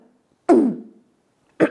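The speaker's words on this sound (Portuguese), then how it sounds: "aquele pigarro, sabe? Bem característico de fumante" A smoker clears their throat twice, one rough, gravelly rasp followed a second later by a shorter one, close and alone in silence.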